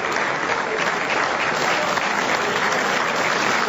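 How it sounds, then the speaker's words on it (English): A boxing match crowd applauds steadily, a dense even wash of clapping from many hands held at a constant level throughout, with no distinct voices. "the crowd there appreciated that bit of skill"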